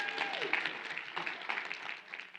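Brief clapping from a modest audience at a professional conference, a fairly faint patter of hands that carries on evenly for a couple of seconds.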